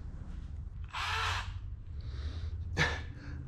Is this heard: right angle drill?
yes